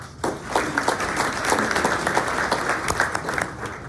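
Steady, full applause from an audience at a morning community event honouring police and fire, dense clapping sustained throughout at close range.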